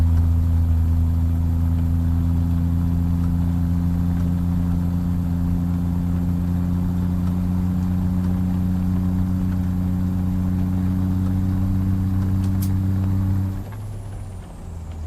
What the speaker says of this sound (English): Sounds nice now. We've had this engine in all day.